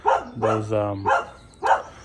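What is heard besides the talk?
dog barking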